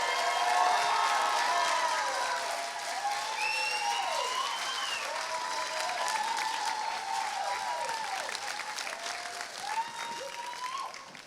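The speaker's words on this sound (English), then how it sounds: "Please put your hands together rapidly and loudly for Tilda Swinton" A large festival audience in the Pilton Palais at Glastonbury applauds loudly and steadily throughout, with some cheering and whoops rising over the dense clapping.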